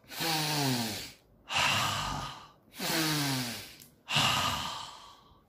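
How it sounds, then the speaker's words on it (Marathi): Four long, heavy breaths out through the mouth, evenly spaced with short pauses between, close and breathy like deep sighs. "तोंडाने सोडायचा"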